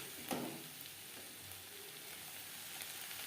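Masala and spring onion stalks sizzle and fry in a pan while being stirred, a steady close hiss for a fish jhal, with a brief louder stir near the start.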